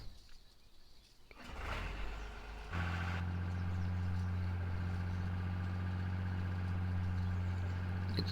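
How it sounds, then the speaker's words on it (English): Farm tractor engine turning over and settling into a steady, loud, close idle with a low continuous drone after a brief rumble of starting. "The tractor's hooked up. And we're gonna go."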